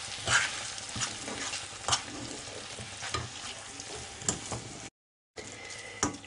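A spoon stirs and scrapes chopped cocido meat with onion in a sizzling pan, irregular scraping strokes over a steady low fry, with a short gap near the end.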